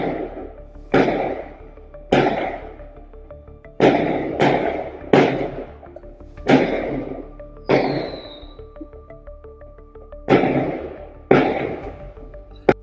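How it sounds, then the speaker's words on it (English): Around a dozen loud, sharp bangs like gunfire strike at irregular intervals, each one cracking hard and then fading into a reverberant tail against low background noise. "counted exactly 11 loud, sharp bangs that sound just like gunfire"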